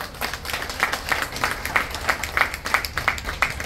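Audience at a community gathering in Intipucá clapping along in a steady, fairly even rhythm, many hands keeping a regular beat up close for several seconds.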